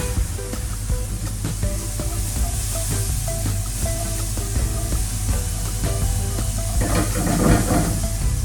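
Cherry tomatoes sizzle in a hot pan with browned garlic, giving a steady close hiss and crackle that swells slightly near the end, with a low hum running underneath.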